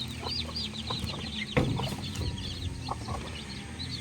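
Hens clucking in a steady, overlapping chorus with high peeping chicks chirping throughout, close by on a farm.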